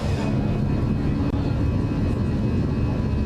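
Fenix A320 jet engines at reduced thrust for noise abatement in Microsoft Flight Simulator 2020, a steady, loud, broad roar that holds evenly throughout.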